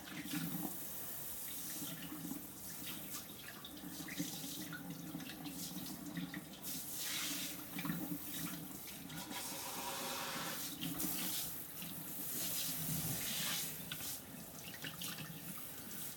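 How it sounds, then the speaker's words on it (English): Hot water pours steadily from a tap into a sink, a continuous close rushing and splashing that runs alone, without pause, for the whole stretch. "And here comes the hot water. And let it get really hot."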